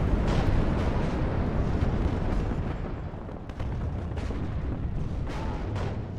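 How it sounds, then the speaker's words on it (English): Mortar barrages in the Cold War strategy game WARNO, a dense, continuous rumble of distant impacts and booms with no clear gaps, steady and loud throughout. "The mortars are finally starting to obscure this guy."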